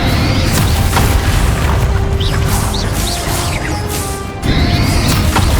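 Fire and blast spells explode in a Hogwarts Legacy boss fight, a dense run of booming crashes and whooshes with almost no pause, loud and close throughout.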